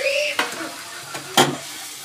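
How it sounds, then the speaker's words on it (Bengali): Paneer being stirred in a sizzling pan, a low sizzle with two distinct scrapes of a spatula against the metal. "আর একটু নাড়াচাড়া করব"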